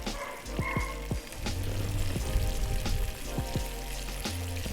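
Freshly breaded sturgeon pieces dropped into hot oil, a steady crackling sizzle building after a few sharp splashes and clinks of placement, continuous bubbling frying close up with occasional knocks.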